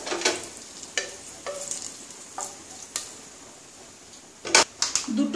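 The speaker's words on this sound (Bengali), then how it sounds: "তেলটা গরম হয়ে যাক, 2 তেজপাতা দিয়ে দিলাম।" Bay leaves dropped into hot mustard oil in a pan, a steady soft sizzle broken by sharp clicks and scrapes of a spoon stirring against the metal, close and fairly loud, no talk.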